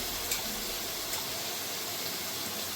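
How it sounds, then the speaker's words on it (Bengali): Spice paste for Gondhoraj chicken curry fries in a pan with a steady, bright sizzle, a continuous close crackling hiss with faint stirring clicks and no talk. "এটাকেও ভালো করে একটু কষিয়ে নিতে হবে মশলাটাকে"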